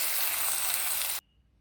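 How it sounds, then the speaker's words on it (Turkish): Eggs cooking in a pan with dried thyme and salt: a dense, loud, close sizzle that holds steady, then cuts off abruptly to near silence. "Pişiriyorum bu şekilde yumurtaları."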